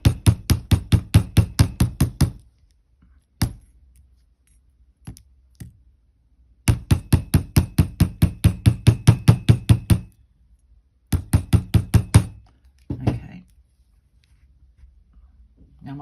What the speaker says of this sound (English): So I'm going to give that a good hammer.